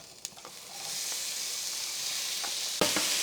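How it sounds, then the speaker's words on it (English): Sliced and diced vegetables sautéing in Tuscan herb-infused olive oil, a steady close hiss and sizzle that swells after a few stirring knocks, with a sharp clatter near the end. "we're just gonna let these saute for 3 or 4 minutes"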